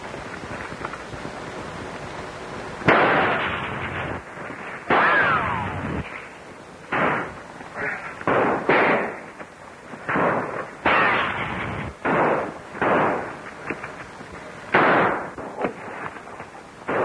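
A shootout from an old Dick Tracy film, with a rapid series of loud gunshots ringing out one after another in uneven bursts, each followed by a short echoing decay, with no voices between them.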